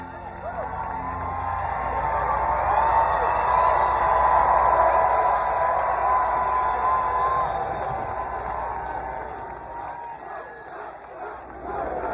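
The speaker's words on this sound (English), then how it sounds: "What a crowd." A huge outdoor crowd at the Salute to America 2025 event in Iowa roars and cheers, a loud swelling wall of shouts and whoops that builds, peaks and slowly fades.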